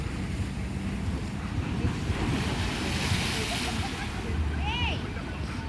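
Ocean surf washes up a beach and soaks people at the shoreline, a continuous rushing roar with wind buffeting the microphone and voices mixed in.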